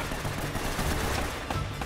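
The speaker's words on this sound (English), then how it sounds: "now everybody's shooting at me" Gunfire rattles in the video game Uncharted during a firefight, with dense bursts of rapid shots layered over a noisy battle background, fairly quiet and without talk.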